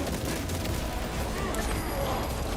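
Frag grenade in Space Marine 2 going off amid a dense, steady roar of combat and gunfire, loud and continuous throughout.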